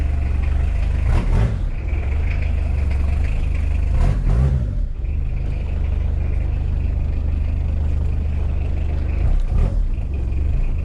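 Suzuki Vitara engine after a clutch repair, a loud, steady low rumble that runs throughout, with a few brief surges as it revs during a test drive.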